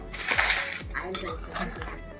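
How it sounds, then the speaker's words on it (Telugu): A large metal kitchen vessel is set down and handled among other utensils, a few close ringing clanks and clinks spaced apart, with no talk over them. "పెద్ద గిన్నె తెచ్చుకుంటాం."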